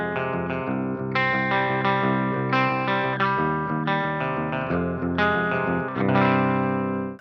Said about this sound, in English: I'll just show you my clean tone first